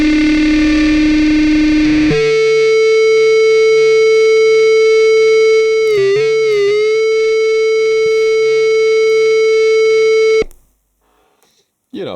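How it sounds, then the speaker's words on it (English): A loud, sustained synthesized electric guitar feedback tone with stacked harmonics and a distorted buzz, wavering briefly midway, then cutting off abruptly near the end. "this makes for some very realistic guitar feedback, harmonic weirdness sort of effect"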